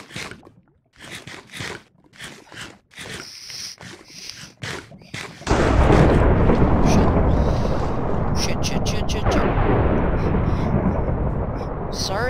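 Thunder in the Minecraft video game crashes in as a loud, sustained rumbling roar that fills the second half, after a stretch of excited talking broken by sharp clicks and game sounds.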